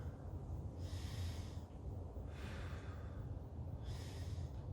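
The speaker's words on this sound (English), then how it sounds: "Taking a few deep breaths here." Slow, deep breaths during a yoga stretch, three long audible inhale-exhale cycles at an even pace, close and fairly quiet.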